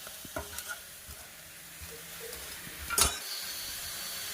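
Masala powder is stirred in a frying pan for aloo dum masala, with a soft continuous sizzle broken by a few scraping spoon strokes and a sharper clink of utensil on pan.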